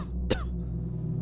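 A single close cough from a man in a Spanish radio drama, provoked by sawdust, sharp and brief over a low steady background hum.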